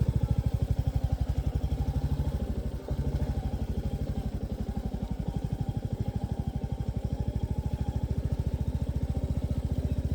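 Royal Enfield Meteor 350 motorcycle riding along a narrow trail, its single-cylinder engine thumping in a steady, loud, close rhythm throughout with a brief dip near the start, no talk.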